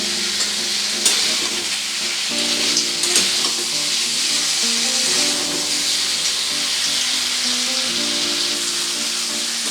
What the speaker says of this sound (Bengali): এইভাবে একটু সামান্য জল দিয়ে আবারও একবার ভালো করে কষিয়ে নিতে হবে